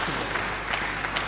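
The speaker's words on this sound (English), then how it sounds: "A round of applause for the President." Steady clapping from a crowd at an international labour arbitration forum, dense and even throughout, with no voices rising above it.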